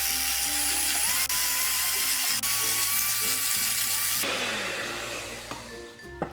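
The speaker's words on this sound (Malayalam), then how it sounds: "ഇനി ഇതിലേക്ക് ഈ മുട്ടയുടെ മഞ്ഞ ഓരോന്നായിട്ട് ഇട്ടിട്ട് ബീറ്റ് ചെയ്തെടുക്കാം" An electric hand beater whisks egg yolks for Swiss roll batter, giving a steady, close motor whine that changes pitch as it runs and fades slightly near the end.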